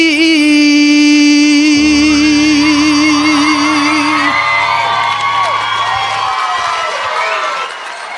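Crowd at a music showcase erupting into cheers, whoops and applause for a standing ovation after a singer's performance of a ballad, loud and sustained, with the sung final note fading into the ovation.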